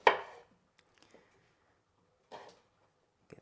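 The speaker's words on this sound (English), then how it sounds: "I'm just gonna cut them into wedges" Knife cutting vegetables into wedges on a board: a few sharp, sparse chops with long quiet gaps, close and clear, with no talk.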